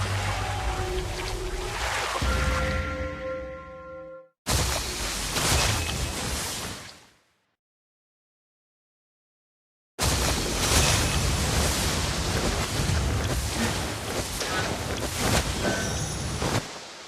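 Rushing, surging video game ocean waves, crashing, breaking off abruptly into a short silence before resuming loud and dense.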